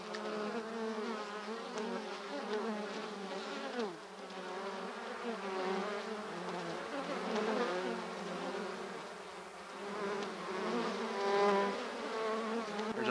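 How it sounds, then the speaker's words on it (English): Bees buzzing from a hive lodged behind plywood inside a house, a continuous dense droning hum of many insects that wavers in pitch, fairly faint, with no voices. "It's this buzzing and droning sound that starts off faint and only grows. Looks like we have a beehive inside this house here"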